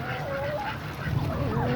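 A rooster and a hen cluck and call in Tehran's Park-e Shahr, short nasal fowl calls over a loud, busy outdoor background.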